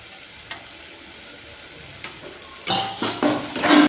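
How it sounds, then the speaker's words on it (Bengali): Spice masala with tomatoes being stirred and sautéed in a pan for a kofta curry: faint scrapes and taps early on, then louder bursts of sizzling frying toward the end. "মশলাটাকে ভালো করে কষিয়ে নেব"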